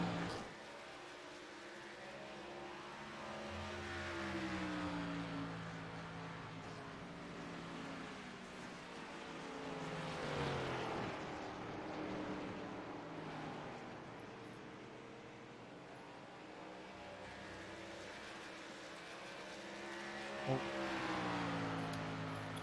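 Race cars in the Gateway 150 race roar past on the track, faint and distant, their engine pitch swelling and falling in repeated passes without commentary.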